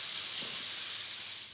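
Chicken and bacon fry in a pan, giving a steady, loud, hissing sizzle that carries on throughout without a break.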